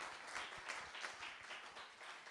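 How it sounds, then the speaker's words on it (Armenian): A church congregation claps together, a faint, fairly steady patter of many hands at a distance, with no talking over it. "մի հատ ծափ տվեք"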